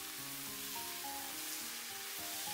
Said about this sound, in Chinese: 接着再把丝瓜倒进来，翻炒均匀，使食材混合在一起